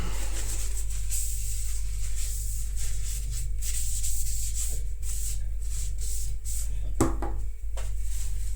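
A cloth or pad rubs along a 65Kh13 steel hunting knife blade, cleaning it just after sharpening on a stone. The rubbing is continuous and close, over a steady low electrical hum.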